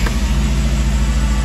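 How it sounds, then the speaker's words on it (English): Volkswagen Rabbit engine running just after being started, a loud, close, steady rhythmic idle with a low pulsing throb and no talking. "You can see the engine starts up right away"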